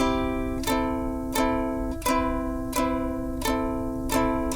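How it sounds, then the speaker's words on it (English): Ukulele strummed with a pick, playing the Super Mario theme as a simple Hawaiian-style arrangement; bright chords ring out in short, bouncy strokes, played close and fairly loud with no talking. "Let's start with the first song that I ever learned on the ukulele, and I call it Hawaiian Mario."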